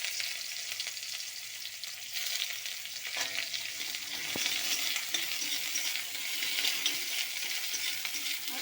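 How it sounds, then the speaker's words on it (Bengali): Chopped onion frying in hot oil in a wok, giving a steady, close, loud sizzle and crackle throughout with no talking. "গরম হয়ে গেছে, তেলও দিয়ে দিচ্ছি। এখন পেঁয়াজ কুচি,"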